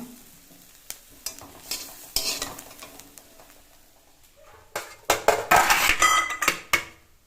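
Bottle gourd peel frying in a pan, heard as a soft sizzle under sharp metal scrapes and clinks from stirring, with the scraping coming in busy bursts at the start and near the end.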